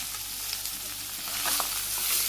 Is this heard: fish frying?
yes